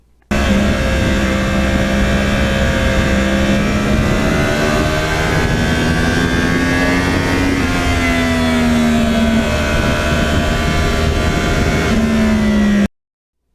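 A Yamaha R1 crossplane motorcycle engine is held at high revs with the throttle open, a loud continuous drone whose pitch rises and dips slightly, close and steady for about twelve seconds.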